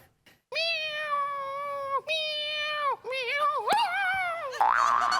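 A voice imitates cat meows, drawn-out harmonic mewing calls in several long phrases, near and loud, first a tomcat and then a cat together, with a brief higher squeal at the end.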